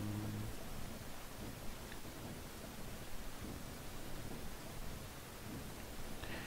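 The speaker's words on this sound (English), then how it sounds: "If, say, you're driving in the rain like now, the bus would get a little bit dirty" Steady rain hisses over the roof and windows of a Scania Citywide LF 12m city bus in The Bus driving simulator, an even broadband wash with no talk.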